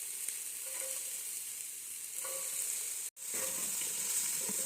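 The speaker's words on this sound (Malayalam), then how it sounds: "ഇത് മാറ്റിവെച്ച് 1/4 ടീസ്പൂൺ ഉലുവ മൂപ്പിച്ചെടുക്കാം" Fenugreek seeds fry in hot oil with a steady, close sizzle and hiss, broken by one brief drop-out.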